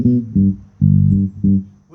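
Fender Jazz bass with both pickups blended, four sustained low notes plucked in a slow pattern, each ringing with rich overtones then decaying before the next, loud and close with no talk.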